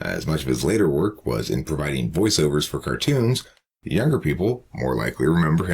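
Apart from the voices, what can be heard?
No everyday noise stands out behind the speech.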